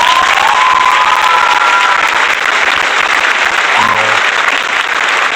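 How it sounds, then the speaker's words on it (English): Steady applause from a crowd, continuous and fairly loud throughout, with no pauses. "let's have another round of applause for it."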